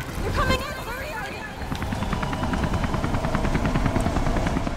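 A helicopter in the video game Beyond Two Souls gives a loud, close, steady rotor chop with rhythmic pulsing and wind-like roar, and brief voices sound over it at the start.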